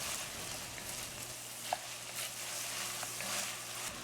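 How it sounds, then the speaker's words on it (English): Fresh ginger and garlic frying in a pot for a chicken karahi, giving a steady, quiet broadband sizzle with a soft stir or tap partway through, no voices. "Then you want to add your fresh ginger and your garlic, mix everything up and cook it just for a few seconds."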